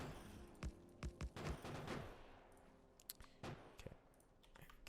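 Sniper turrets blast away in Factorio with the Krastorio mega mod, firing a burst of sharp, loud shots in quick succession, then a few scattered cracks and short volleys over a low steady background hum.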